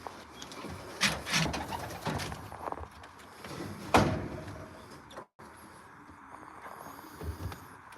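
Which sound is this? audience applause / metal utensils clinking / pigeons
pigeons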